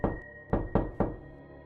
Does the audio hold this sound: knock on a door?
yes